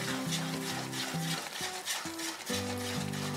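A spoon scrapes and stirs a roasted semolina rava ladoo mixture in a pan after the heat is switched off, with soft intermittent scraping under steady tonal background sounds.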